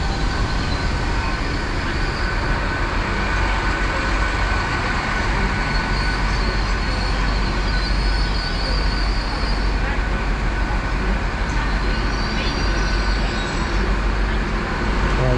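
An IET bi-mode train, unit 802019, running on diesel through a busy station on the Oxford–Banbury and Bicester line, giving a steady, continuous low rumble and broadband rail noise throughout, moderately close with no pauses.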